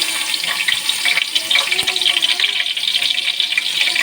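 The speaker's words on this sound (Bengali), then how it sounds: "এখন আমি দিয়ে দিচ্ছি পেঁয়াজ কুচিটা" Finely chopped onion hits hot oil in a home kitchen, giving a loud, steady, hissing sizzle that runs unbroken with faint crackles.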